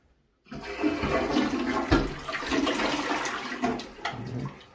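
A household toilet with a newly installed flush handle flushes after a sharp click, followed by a loud, close rush of swirling water that runs steadily for several seconds.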